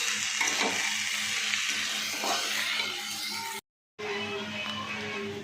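Sliced onions fry in a hot pan with a loud, continuous sizzling hiss, occasional scrapes of stirring, and a brief cut to silence partway through.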